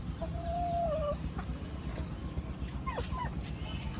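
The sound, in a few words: Bahama breed chickens and roosters clucking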